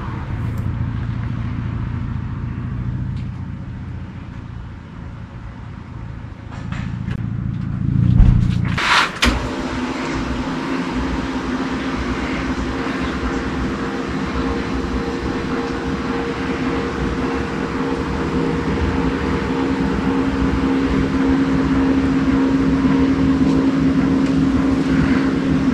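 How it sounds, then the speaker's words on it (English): A parked truck across the street drones with a low, steady engine thrum from a distance, with a brief thump partway through; there is no talking. "It's from a truck parked across the street."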